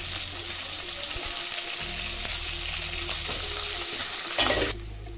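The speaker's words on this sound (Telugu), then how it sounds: "ఇప్పుడు ఇందులో కరివేపాకు వేసుకుందాం." Curry leaves fry in hot oil with garlic and chillies for a tomato pickle, a close, steady sizzle with stirring, ending in a brief louder crackle before cutting off abruptly.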